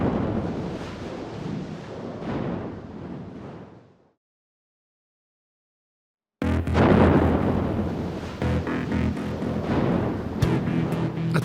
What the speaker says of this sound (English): A terrifying explosion has devastated the heart of Brixton in London.